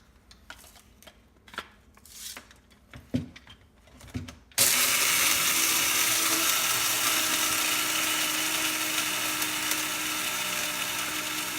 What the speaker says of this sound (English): We want a nice fine grind, so we're going to let this run for a second.